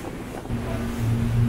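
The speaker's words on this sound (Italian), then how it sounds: "Troppo vento!" Strong wind blows at sea during the Barcolana 51 sailing regatta, a steady, close rush of gusting air with wind buffeting the microphone and water moving beneath, with no talking.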